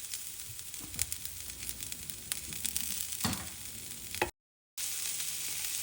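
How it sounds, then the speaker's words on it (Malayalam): Chopped onion and garlic (half an onion, two cloves) fry in hot oil in a pan, giving a steady, close sizzling hiss with a few crackling spikes and soft stirring scrapes. The sound drops out briefly near the end. "നമുക്ക് ഉള്ളിയും വെളുത്തുള്ളിയും കൂടെ ഇട്ട് കൊടുക്കാം"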